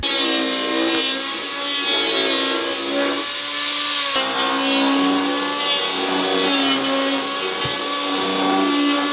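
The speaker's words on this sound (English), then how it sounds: "he's taking a power planer and he's shaving the tops of the high spots of the joists" A power planer shaves the high spots off the tops of deck joists, giving a steady, loud, whining machine drone with a rising and falling pitch as it runs along the wood.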